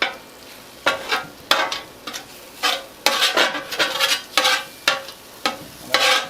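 Metal spatula scraping and tapping on a hot Blackstone 17-inch flat-top griddle while food sizzles, a rapid series of close, bright scrapes in an uneven rhythm with no talking.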